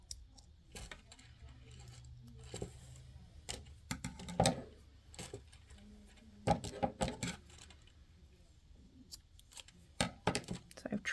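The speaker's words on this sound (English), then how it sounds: "we are going to trim these ends with a pair of scissors" Scissors snip the cord ends of a handmade wristlet, several quiet, sharp clicks and cuts in irregular bursts, close to the microphone against a hushed background.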